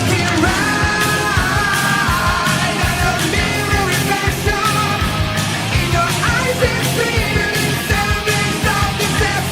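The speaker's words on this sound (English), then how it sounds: "that scream in the beginning is just like whoa" A raw vocal scream opens a heavy metal song, loud and sustained over dense distorted guitars and pounding drums that carry through the whole passage.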